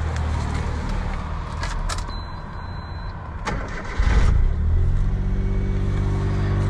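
A modified Suzuki Cappuccino with different spark plug wires cranks briefly and catches near the four-second mark, then settles into a steady, fairly quiet idle with a low, even note.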